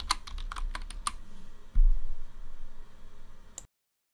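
Fast typing on a computer keyboard: a quick run of sharp, close key clicks, then a louder thump and a few more scattered taps before silence.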